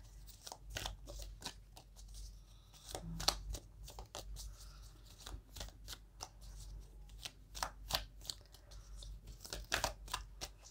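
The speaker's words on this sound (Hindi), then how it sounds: "काफ़ी कार्ड्स गिर रहे हैं आपकी शफलिंग में" A tarot deck is shuffled close by in quick, crisp bursts of card flutters and slaps that repeat at an uneven rhythm, quiet overall, with no talking.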